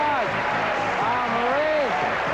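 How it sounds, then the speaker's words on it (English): Loud, sustained studio audience applause on the 1987 game show Truth or Consequences fills the room while someone speaks energetically over the clapping. "A big round of applause."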